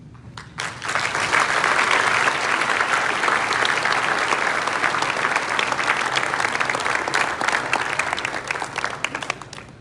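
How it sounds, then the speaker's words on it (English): Loud, dense applause for award winners at the Arizona State Fire School opening ceremonies, starting abruptly and holding as a full, steady roar of clapping across the room. "round of applause for all the award winners tonight"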